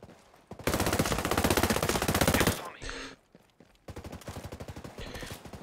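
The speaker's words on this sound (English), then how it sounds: "I hear gunfire." Automatic gunfire in Ghost Recon Breakpoint PvP play: two long, loud, rapid bursts separated by a brief pause, with faint voice chat in the gap.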